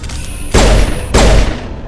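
Two heavy grenade explosions in the Mass Effect video game, each a sudden loud thump with a decaying rumble, about half a second apart and close by, with no talk.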